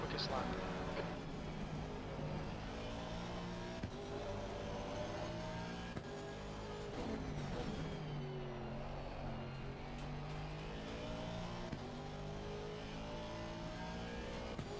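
A racing car engine in a driving game on the Zolder circuit, revving and accelerating continuously with rising and falling pitch through gear changes, someone talking over it.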